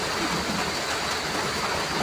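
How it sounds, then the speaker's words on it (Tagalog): Heavy rain pours steadily in a dense, even hiss with no talking, loud and close throughout. "kung lalakas pa itong ulan kaya lumakas ang hangin"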